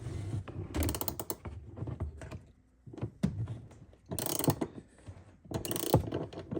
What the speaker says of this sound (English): Now that the shaft is retained, we're actually undoing the nut from it.